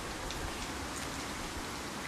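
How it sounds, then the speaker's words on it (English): Light rain sprinkles outdoors, giving a soft, steady hiss of fine drops with no other sounds standing out. "So we've got a slight sprinkle. It's like between a fog and a sprinkle."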